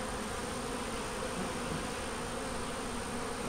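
Honey bees buzz steadily and densely around an open hive during an inspection, a continuous close drone with no voices.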